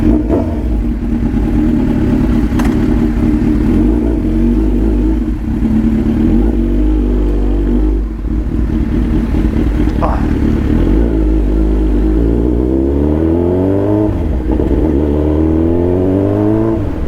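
Kawasaki Z900 RS motorcycle engine revving loudly on a first ride, with deep steady rumble and rising, falling rev sweeps in the later half, close to the microphone under ongoing talk.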